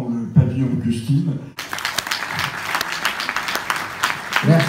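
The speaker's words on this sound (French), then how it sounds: "Applaudissez fort" At a festival opening night, audience applause breaks out after someone speaks, dense clapping sustained for about three seconds before his voice returns.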